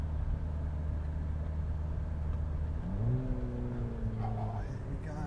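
A Mini GP3 car accelerates hard from a junction, its engine note climbing steadily in pitch through the gears under the steady cabin hum, heard from inside the car.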